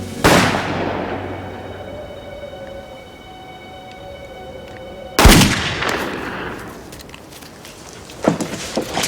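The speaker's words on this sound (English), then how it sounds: "Fire at will." Gunfire in a western shootout: a sharp loud gunshot at the start, then a quiet stretch with a faint tone, then a second burst of loud shots and cracks followed by scattered fainter bangs near the end.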